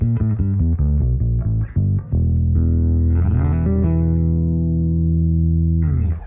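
Bass guitar with fuzz, running through a Line 6 HX One, a Darkglass Electronics Adam and a Sushi Box Grand Slam Peg: loud, close, distorted notes in a quick riff, then a long sustained note that rings out before another attack.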